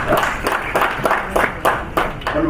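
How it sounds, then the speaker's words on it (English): An audience at a national policy dialogue on disaster contingency planning claps in short, uneven bursts of hand claps, fairly loud and close, with no talk over it. "Let's have another round of applause for"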